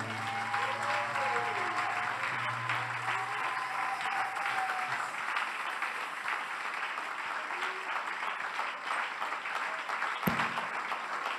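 A church congregation claps steadily in sustained, dense applause for Jesus, filling the room evenly from start to finish with a sharp bang near the end.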